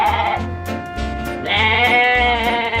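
Goats bleat repeatedly at a tall goat climbing tower, loud and close, several overlapping drawn-out calls following one another with no talk.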